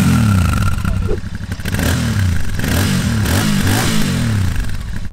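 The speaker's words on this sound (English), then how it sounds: "plenty of old school air cooled character, and also a great soundtrack from that 270 degree crank." A 2024 Royal Enfield Shotgun 650 with an air-cooled twin and 270-degree crank runs loud and close, its engine pulsing and revving with a throbbing, uneven beat and some mechanical clatter.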